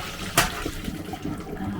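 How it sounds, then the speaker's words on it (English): Boiling water is tipped out of a pan into a sink, a sudden splashing gush followed by a short trickling, gurgling drain. "Get rid of that boiling water"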